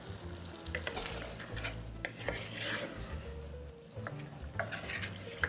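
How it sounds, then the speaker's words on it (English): Creole tomatoes being stirred into chicken in a hot pot: a steady close sizzle with scraping, shuffling stir strokes and a few light clinks of utensil against the pot. "Oh yeah, and you're gonna stir this all together."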